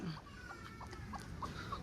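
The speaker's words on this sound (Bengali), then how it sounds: "কিছু দেশি মুরগিও আছে," Soft clucking from several native chickens on a cattle farm, faint and close, with short scattered calls over a low background rumble.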